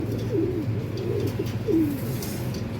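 Racing pigeons being readied for a derby race coo close by in soft, low, repeated rolling calls over a steady background hum, with no voices.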